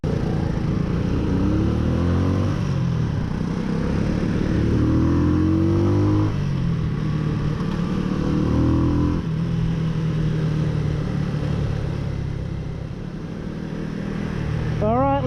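A Honda Super Cub NBC110 custom build runs steadily while being ridden on a road, its mid-pitched engine drone shifting with speed and gear changes and easing off near the end, with a rider talking over it.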